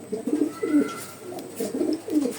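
Pigeons cooing close by, several soft low throaty coos repeating in a steady rhythm over quiet background.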